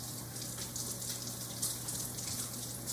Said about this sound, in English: Go ahead, turn the water on, stick your mitts underneath